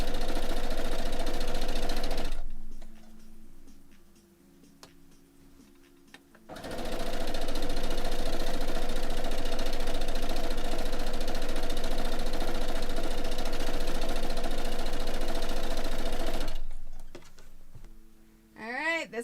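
Sewing machine stitching dog beds, a loud close steady motor whir in two long runs separated by a pause, with a brief restart near the end and faint talk between runs.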